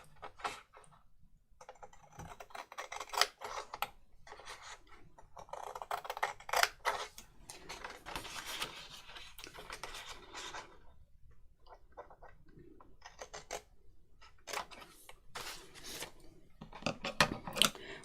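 Scissors snip through paper to cut out a single word, a run of crisp, close cuts in irregular bursts with short pauses between them and no talking.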